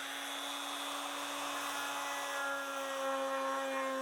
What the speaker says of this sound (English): A rotary rasp works well to remove a lot of material quickly.